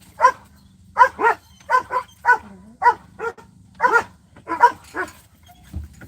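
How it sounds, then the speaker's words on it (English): Dogs bark in a string of about a dozen sharp, fairly loud barks, some in quick pairs, close by with a low hum underneath and no talking. "Make sure these dogs are good with my son."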